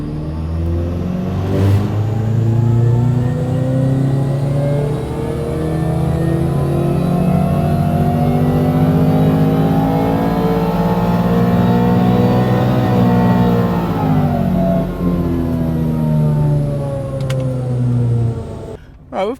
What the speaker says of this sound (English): Let's just perform a ramp run now with our turbocharged Toyota 86